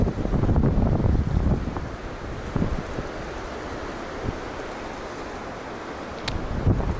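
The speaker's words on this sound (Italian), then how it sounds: "il vento qui batte ugualmente" Strong outdoor wind buffets the microphone on an Italian woodcock hunting outing, a steady roaring rush that surges louder at the start and again near the end, with no talking.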